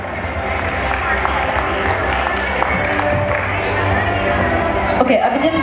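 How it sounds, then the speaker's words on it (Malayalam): Audience applause at a wheelchair distribution ceremony, a steady wash of clapping and crowd murmur held throughout, with voices mixed into the babble. "കയ്യടി മാത്രം കേൾക്കുന്നു"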